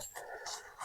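Quick, breathy dog panting close by on a hike, a few short bursts of rapid breaths with faint outdoor noise.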